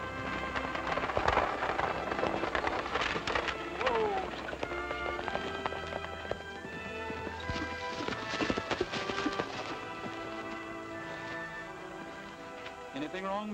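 Stagecoach horses clip-clop along as the coach pulls up, hooves thudding in a loose rhythm amid creaks, rattles and background music, with a voice speaking over them.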